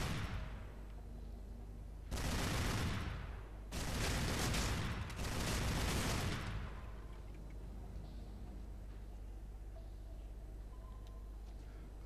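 Gunfire in the video game Tomb Raider Legend: three loud bursts of rapid shots in quick succession, each lasting about a second, over a steady low game rumble.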